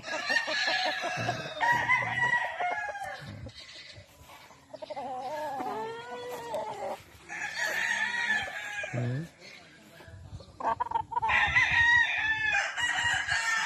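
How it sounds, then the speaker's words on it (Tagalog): Several chickens cluck and a rooster crows repeatedly on a farm in Ilocos, Philippines, fairly close, with bursts of overlapping calls and some talking mixed in. "Yan ang mga manok nga."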